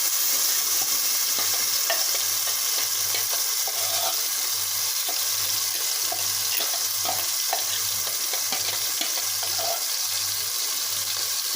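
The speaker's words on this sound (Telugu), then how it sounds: "ఆ టమాటా అయితే వేసేసుకున్నాం." Blended tomato puree frying in a pan for a tomato gravy, giving a loud continuous sizzling hiss with faint scraping stirs and a low pulsing hum underneath, no voices.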